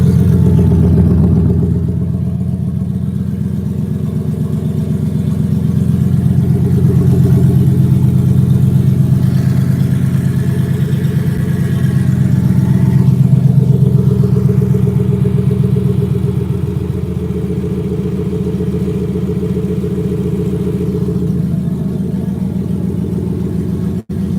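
A 2018 turbocharged Ford Mustang GT idles steadily and loudly nearby with a deep, even rumble and slight rises in tone, running with no talk over it.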